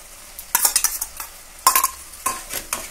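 Mustard and poppy seed paste stir-fried in a pan for pabda fish, with bursts of spatula scraping and clinks over a low sizzle, close up with no voices.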